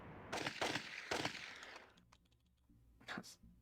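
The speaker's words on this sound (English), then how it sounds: "It happens as soon as you get back into New Reno. It's like, oh yeah, gunshots, I'm home." Bursts of gunfire in the streets of New Reno in Fallout 2: several quick rattling volleys close together, then a quieter stretch and one more short burst, heard alone at low level.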